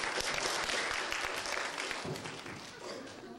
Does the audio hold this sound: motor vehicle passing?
no